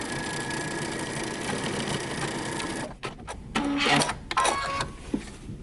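Sewing a dress bodice seam, a machine hums in a fast continuous run for about three seconds, then stops, followed by a few handling clicks and rustles of fabric close by.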